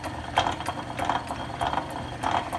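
A Rhodes metal shaper runs with a newly set 1.5-inch stroke, making a steady mechanical clatter of gears and ratcheting clicks that repeats in an even rhythm, close by and with no talk.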